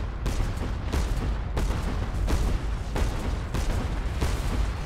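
Airship broadside cannons fire in the game Cloud Pirates, a rapid string of booming volleys, roughly one every half second to second, loud and dense, with no talk over them.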